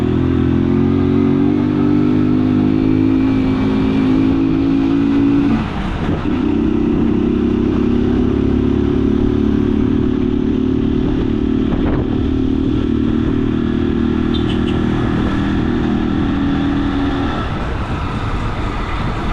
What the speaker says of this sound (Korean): 타고 올라갑니다. 오토바이.